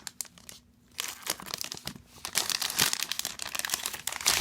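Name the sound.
cutting open plastic packaging of an iPad case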